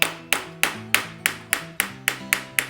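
A metal socket gently taps a screw out of a Trek Roscoe 9 bicycle frame, nine evenly spaced light metallic knocks ringing close and clear, alone without voices.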